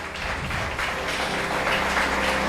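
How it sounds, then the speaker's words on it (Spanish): Audience applauding at a church gathering, a steady dense wash of clapping that holds evenly throughout without voices on top. "Denle un fuerte aplauso."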